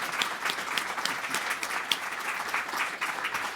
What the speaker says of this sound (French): je t'applaudis au nom de l'association